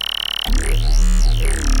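Vital software synth playing its clicky robot wavetable oscillator: a sustained buzzy, robotic tone with a sweeping, shifting timbre that enters abruptly after a short stretch of quieter clicking and then holds loud and close.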